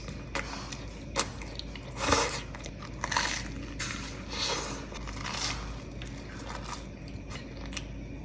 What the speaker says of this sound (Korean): 기분 좋은 바삭함과 맛없기 힘든 조합의 샌드위치입니다.